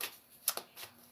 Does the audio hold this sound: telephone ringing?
no